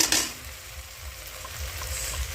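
Onion and tomato paste sizzling and frying in a kadai for kadai paneer, a steady close hiss with soft stirring scrapes throughout, no talking.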